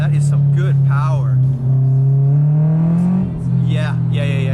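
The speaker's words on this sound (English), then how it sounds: "Lots of good induction noise, lots of good exhaust noise." A Rotrex-supercharged Subaru BRZ making about 282 horsepower accelerates hard, with a loud steady engine drone, induction and exhaust noise under excited talk from inside the car.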